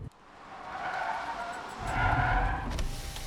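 A car brakes hard to a stop, tires squealing and skidding on the road with a rising engine rumble, loud and near, no voices over it.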